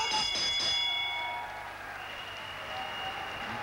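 A boxing bell clangs at the end of round 10 in a professional bout, several quick ringing strikes at the start that fade into a sustained metallic ring over crowd noise.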